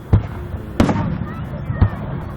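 Fourth of July fireworks in Austin, Texas, 2015, boom in three separate bursts with crackling tails, while nearby spectators talk.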